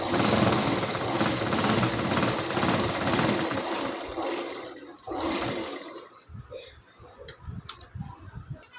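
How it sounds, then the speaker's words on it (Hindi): A sewing machine stitches along the edges of a salwar, whirring steadily and close for several seconds before slowing to scattered clicks and handling noises. "दोनों में इसी तरीके से किनारी पे सिलाई लगाएंगे।"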